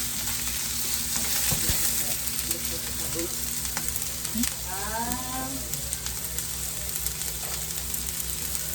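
Ginger and onion sizzle in a pan as an oyster stir-fry is mixed, a continuous frying hiss with stirring scrapes and a brief voice-like sound partway through.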